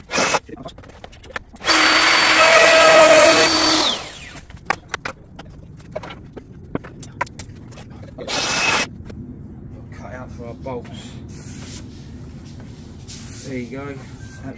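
A power tool cuts a mason mitre joint into a wooden kitchen worktop in a loud, harsh two-second burst, then a shorter cut follows amid quieter handling noises and a voice.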